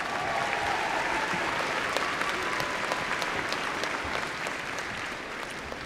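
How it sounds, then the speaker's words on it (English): Sustained applause from a large commencement crowd in a university ceremony hall, dense steady clapping throughout that eases slightly toward the end, with no talking over it. "Let's give them a round of applause."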